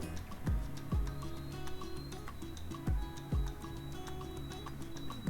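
A sewing machine stitches across a simple sleeveless top in a quick, regular ticking rhythm, with soft low thumps recurring at intervals.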